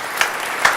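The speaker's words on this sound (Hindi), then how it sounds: "पूरा सदन एक बार तालियां बजाकर अगवानी करे भाई रोहित" A brief, dense burst of audience clapping at a Hindi comic poetry gathering welcomes poet Rohit Jhannat, a close, even patter with two slightly louder claps.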